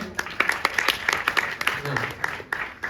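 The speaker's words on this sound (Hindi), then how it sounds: "जोरदार तालियां बजाएं इनके" An audience at a Hindi poetry gathering (kavi sammelan) at a Panipat college applauds, with sharp individual claps in an uneven patter across the whole stretch, fairly close and moderately loud.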